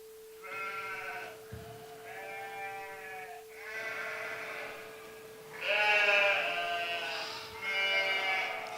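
Several sheep bleat in a shepherd's pasture after a thunderstorm, loud and close, in repeated wavering calls with short pauses between them and a steady low hum underneath.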